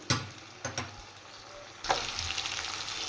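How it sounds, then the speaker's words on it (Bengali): Fish being lightly fried in oil over low heat, a soft steady sizzle with a few sharper crackles and stirring clatter, growing louder partway through. "এইভাবে মাছগুলো আমি হালকা হালকা একটু সাঁতলে নামিয়ে নেব"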